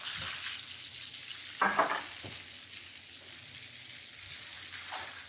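Frozen potatoes fry in a sloped-edge sauté pan with a steady close sizzle throughout, broken once by a louder rattling burst as the pan is tossed or stirred, then settling back to even crackling.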